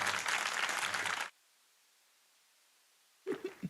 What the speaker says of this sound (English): you're getting consistent claps from the crowd